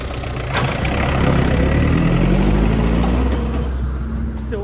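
Tractor engine idling beside a trailer during a sunflower harvest, a steady, loud, close diesel drone with a low rumble that holds even throughout, no voices.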